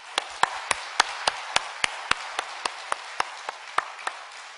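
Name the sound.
congregation applauding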